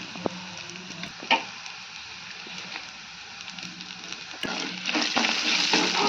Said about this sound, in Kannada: ಉಳ್ಳಾಗಡ್ಡಿ ಫ್ರೈ ಆಗ್ಯಾವ್ರಿ